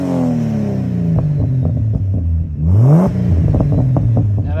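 A Holden Barra car with a full ANTZ performance exhaust revs loudly up close: a deep idle rumble, then a sharp rising rev that swoops up and falls back, with crackles and pops as it settles.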